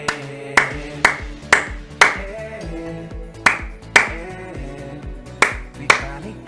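Sharp, loud claps ring out one at a time at uneven intervals over a bouncy electronic music track.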